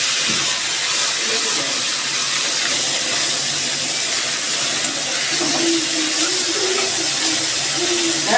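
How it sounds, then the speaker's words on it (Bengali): Small fish sizzle in hot oil in a wok, a loud, steady hiss and spatter that carries on without a break, with a faint voice at times. "আমি এবার মাছগুলো দিয়ে দিচ্ছি।"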